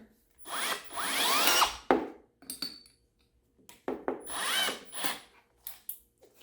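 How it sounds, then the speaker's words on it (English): A power drill fitted with a bigger bit widens the test-tube holes of a DIY plant propagation stand, whirring in two long, loud bursts, each followed by short, sharp taps and brief spins. "Come in with a little bit of a bigger drill bit."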